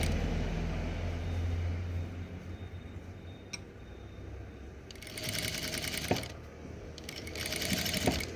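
A sewing machine stitches a nighty, starting quiet with a low hum, then breaking into rapid bursts of close, rattling stitching that stop and restart near the end.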